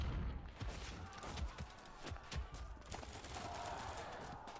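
Cannon fire in the medieval strategy game Field of Glory II: Medieval, a dense run of booming, crackling volleys at battle distance over a continuous noisy rumble, with several sharper thumps standing out.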